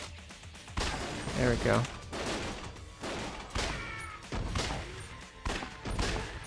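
Gunfire in the video game Lost Judgment, a series of sharp shots in bursts over game sound effects, with someone speaking briefly between them.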